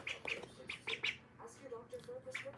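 A pet duck lets out a quick run of harsh, nasal squawks in short bursts, close and fairly loud, with a person talking softly in between.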